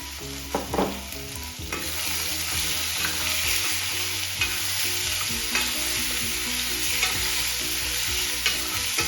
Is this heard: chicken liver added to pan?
yes